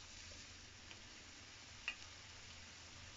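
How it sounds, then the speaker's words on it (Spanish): Shredded beef flautas fry in hot oil in a pan, making a faint, steady low sizzle with one brief sharp tick, no voices. "el aceite ya se calentó, vamos a poner nuestras flautas a dorar"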